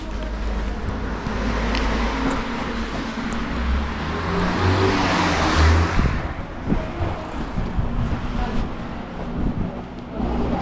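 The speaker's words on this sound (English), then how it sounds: "a lot of cars kind of whip up here" Cars whip past along a small but busy Tokyo street in the Tomigaya area, a broad close road roar swelling as one passes and fading, with wind buffeting the microphone.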